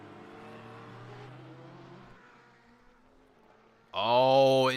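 Ferrari race car engine in a racing game at Sonoma, a steady engine drone that fades, then a sharp loud rev with rising pitch near the end.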